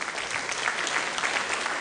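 An audience at a live government annual report event claps continuously, a dense, steady wash of applause from a large crowd.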